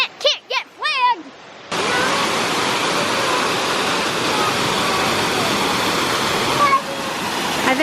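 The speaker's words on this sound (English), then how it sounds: "There's the waterfall." A waterfall at Salt Springs State Park in Montrose, Pennsylvania roars as a steady, loud broadband rush after a few seconds of children's voices.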